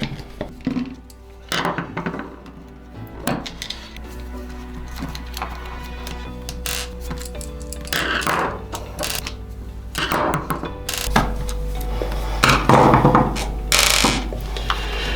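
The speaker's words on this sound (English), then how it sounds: "So we're going to use our little number 1 Phillips head and just undo all of those." A No. 1 Phillips screwdriver backs out small screws on the wiring sub-harness of a 2024 Triumph Speed 400, giving repeated close ratcheting clicks and light metallic taps in irregular bursts.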